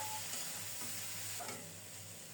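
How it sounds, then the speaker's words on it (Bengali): Potatoes and dried loitta fish cooking over low heat in a covered pan, a faint continuous sizzle with soft stirring scrapes. "এভাবে অল্প তাপে কয়েকবার করে ঢেকে ঢেকে খুব সুন্দর মতো কষিয়ে নেব।"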